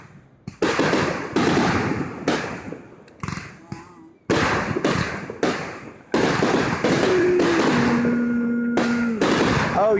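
Fireworks show at Hootentown: repeated loud bursts and crackling pops in quick volleys, with spectators' voices chatting and exclaiming between blasts and a brief whistling tone near the end.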